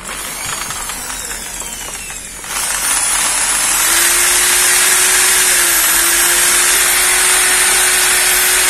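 A Japanese secondhand power drill switched to hammer mode whirs steadily and loudly at high speed, its motor tone rising after a quieter start and then holding a constant pitch with no talk over it.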